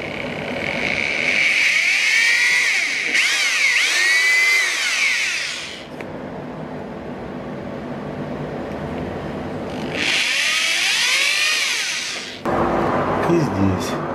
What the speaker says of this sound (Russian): Теперь просверлим отверстие.